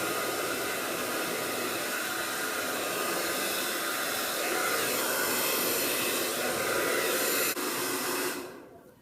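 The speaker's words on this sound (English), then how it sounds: "make sure to kind of blow dry those towards your face like I'm doing like this." A hair dryer blows continuously with a loud, steady airy roar while styling hair into a voluminous blowout, holding for several seconds before winding down and cutting off near the end.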